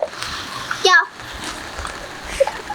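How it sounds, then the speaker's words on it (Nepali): Dishes are scrubbed and rinsed outdoors in the rain, giving a brief watery splash and clatter against steady background noise, with a young voice talking nearby. "उसले भाँडा माझिरहेको छ"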